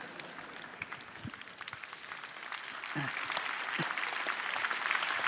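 Audience applause at a live French talk event, building from scattered clapping into a fuller, sustained round with a few louder claps near the start.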